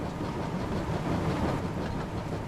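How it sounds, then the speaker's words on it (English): A steam train rolling along in a Thomas and Friends video game, a steady rumbling clatter of wheels on track, continuous and fairly loud with no voices. "train was soon running nicely, and James began to feel confident."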